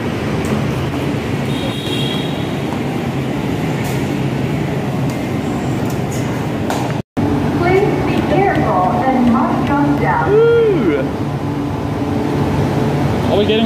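Hanoi Metro train standing at a station platform, a steady rumble and hum of the train with a brief cut midway, while people talk over the station noise throughout.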